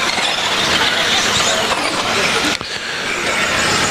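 2WD rallycross race cars roaring along a track straight, loud continuous engine and tyre noise close by with a sharp mechanical jolt partway through.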